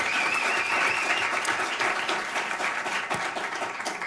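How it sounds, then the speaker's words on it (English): Sustained applause from an audience at a congressional field hearing in Broward County, a steady wash of many hands clapping at moderate loudness, holding for the full stretch without speech. "I'm assuming there would be more than one person applauding."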